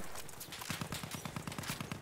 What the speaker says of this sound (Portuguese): O cara vindo de cavalo. Passou.